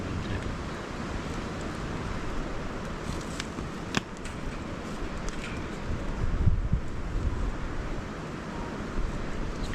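Wind gusts across an open outdoor spot by a campfire, a steady broadband rush that swells and eases, with one brief knock partway through and a stronger buffet near the end.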